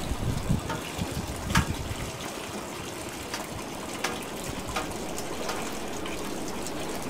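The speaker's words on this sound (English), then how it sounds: "So we're draining our grains here." Wort drains from a bag of spent grains in a brew-in-a-bag pale ale setup, giving a steady, moderately loud trickle and dribble of liquid with occasional splashy gushes, close by and with no talking.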